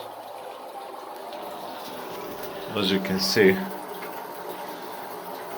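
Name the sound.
water flowing out of electric water heater pipe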